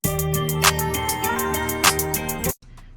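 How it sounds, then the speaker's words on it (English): A simple clap drum sample sits inside a guitar-based beat, snapping at a steady interval over a sustained tonal loop before the mix cuts off near the end. "Then of course we got a simple clap."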